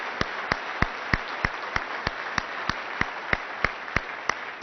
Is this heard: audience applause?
yes